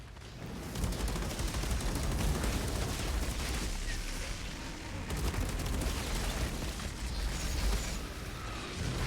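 Dense, sustained gunfire from the Outriders shooter game, close and loud for the full stretch as weapons fire continuously at enemies, with rumbling blasts mixed in and no talking.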